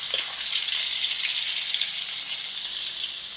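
Garlic, shallots and dried shrimp fry in a hot pan with a steady, close hiss and crackle. It runs unbroken throughout, with no voices over it.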